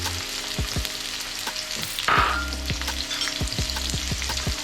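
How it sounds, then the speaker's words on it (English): Carrots and onions sizzle steadily as they stir-fry in hot oil in a wok, a dense continuous frying hiss with periodic clicks of stirring, loud and close, with no talking. "We'll start frying off the carrots."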